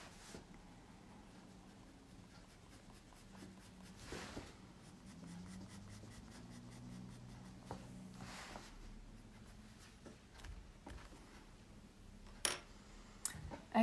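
A pencil cross-hatches on paper, making soft, fast, rhythmic scratching strokes close up and faint, continuing steadily with short pauses and a few light taps near the end.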